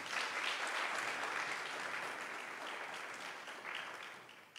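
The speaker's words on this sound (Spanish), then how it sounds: "Un fuerte aplauso, por favor." An audience applauds at a results presentation for a training and women's empowerment project in Guanajuato, Mexico, giving steady, fairly faint clapping that fades slightly over a few seconds.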